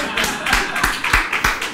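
Brief burst of audience applause and scattered clapping on a chaotic flirting game show, a handful of sharp claps rising over background noise with a voice partly audible underneath.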